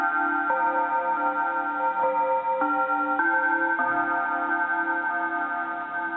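A vintage Casio SA-1 keyboard plays a sustained chiming tone with an echo effect, steady held notes shifting pitch every second or so, with repeats trailing behind each note and no talking.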